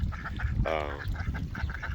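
A duck on a partly frozen farm pond gives one short, clear quack over steady outdoor background noise.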